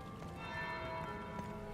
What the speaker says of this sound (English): That's the bell.